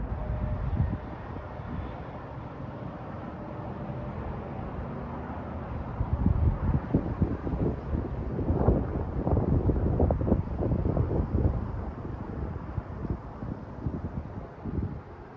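Strong wind buffets the top of a 100 ft fire tower, a roaring, gusty rumble of wind against the microphone that surges in bursts through the middle and stays heavy throughout.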